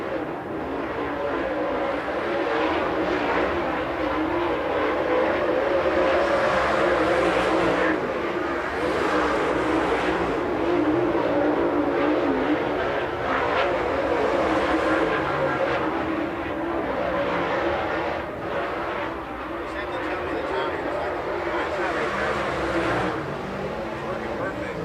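Late model race cars qualifying on the speedway at Red Hill Raceway, a continuous roaring engine drone rising and falling as cars circle, heard at a distance under steady talk from an announcer.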